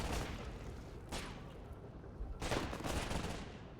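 Bazooka and gunfire in the World War II shooter Warfare 1944, with dense bursts of shots and blasts that surge in two louder waves, fairly close and continuous throughout.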